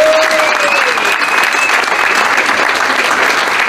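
Loud, dense applause from a crowd at a celebration party fills the whole moment in a steady, close wash of clapping, with a faint voice briefly audible underneath.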